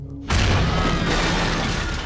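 A homemade bomb blows up aboard Philippine Airlines Flight 434 in a documentary reenactment, a sudden loud boom that bursts in after a quiet start and holds as a heavy roaring rumble.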